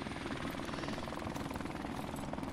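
Helicopter in Call of Duty 4 multiplayer: a constant, fairly quiet rotor thrum with a rapid chopping pulse, steady throughout and not overlapped by talk.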